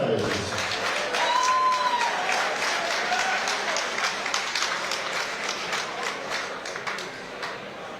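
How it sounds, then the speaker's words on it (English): Crowd at a boxing event breaks into sustained applause and clapping, loud at first and gradually tapering, with a voice briefly heard over it. "Big round of applause for these two guys."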